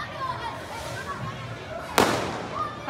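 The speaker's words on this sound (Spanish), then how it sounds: "se han inventado fuegos artificiales cubanos" Homemade Cuban fireworks go off on New Year's Eve, a single sharp bang cutting through steady crowd chatter and nearby voices, close and loud against the festive background.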